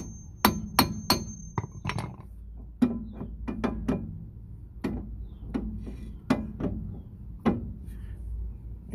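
A hammer taps an outer CV joint onto the axle of a Volkswagen Golf Mk1, with a nut fitted to protect the threads: sharp metallic knocks close by, some in quick clusters and others spaced out, with no talk.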